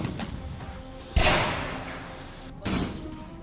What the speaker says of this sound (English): Gunfire has a distinctive sound.